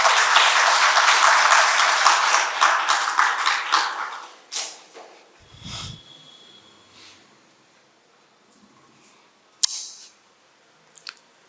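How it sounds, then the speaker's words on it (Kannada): An audience breaks into loud, dense applause that holds strong for about four seconds, then thins into scattered claps and fades, leaving a few isolated taps and a brief handling knock in a quieter room. "ಚಪ್ಪಾಳೆ."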